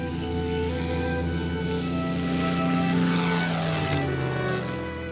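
A Spitfire's propeller engine drones steadily and loud, with the pitch shifting as the aircraft passes close by before the roar begins to fade.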